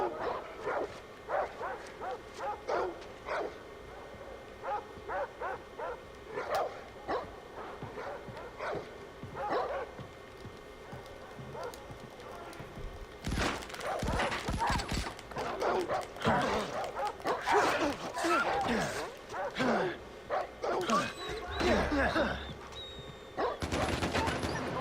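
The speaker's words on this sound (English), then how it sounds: "Goddamn dog." Dogs barking in the Far Cry 4 video game, repeated sharp barks that grow louder and more frantic partway through, mixed with bursts of gunfire and other game noise.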